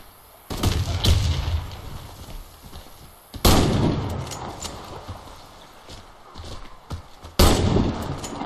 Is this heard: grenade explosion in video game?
yes